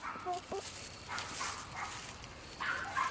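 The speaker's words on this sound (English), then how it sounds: "Big old yapper in the background." A small dog yaps in the background of a home, giving short, sharp barks and yips at a moderate distance amid household noise.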